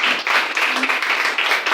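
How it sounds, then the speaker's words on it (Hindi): A church congregation at a Sunday worship service in New Delhi claps for a guest, a close, lively burst of many hands applauding with uneven rhythmic pulses. "आइए बहन के लिए ताली बजाएंगे इस समय।"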